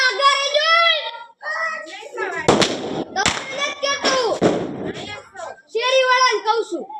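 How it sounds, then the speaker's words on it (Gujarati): Diwali firecracker bombs go off inside an iron pipe, giving a few sharp, loud bangs close by. Children's excited voices and chatter fill the gaps between the blasts. "જો આ બધા નવી ટેકનિક લઈ આવ્યા છે મરસી બોમ્બ ફોડવાની લોખંડની પાઇપ"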